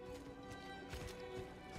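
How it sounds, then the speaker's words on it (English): Horse hooves clop rhythmically in the Diablo IV video game, a faint, quick run of hoofbeats under a soft ambient game soundscape. "A horse?"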